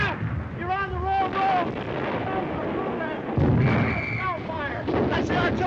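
Booming artillery fire rumbles across a target range in a 1941 film comedy, heavy and continuous beneath urgent shouting voices and a musical score.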